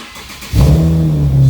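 An Infiniti G37 engine cranks and catches abruptly, then settles into a loud, steady rumble with a strong low hum.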